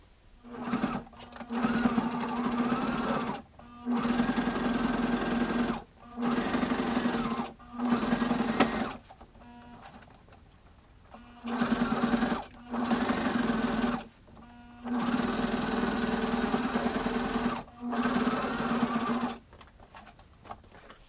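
A sewing machine stitches a padded vinyl panel for a Thor costume in a series of steady, loud bursts of a few seconds each, separated by brief pauses, close up.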